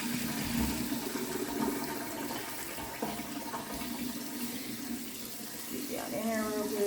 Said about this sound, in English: I just got a strainer. And I'm just going to pour all this water off.